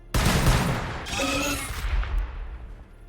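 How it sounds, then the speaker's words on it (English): A gunfire volley from the Warhammer 40K: Battlesector video game erupts as a loud, sustained burst of overlapping shots and booms, then fades out over a couple of seconds. "Open fire!"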